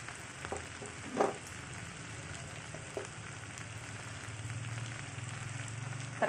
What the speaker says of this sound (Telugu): వంకాయ ముక్కలు బంగాళదుంప కొద్దిగా బాగా ఆయిల్లో బాగా వేగాక